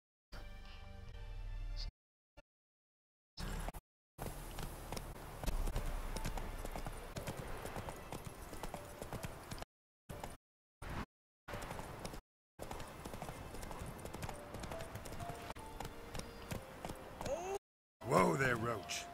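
A horse gallops in The Witcher 3 on Xbox Series X, its hooves clip-clopping in a steady rhythm under game sounds and music, broken by a few sudden gaps, while a voice talks over it.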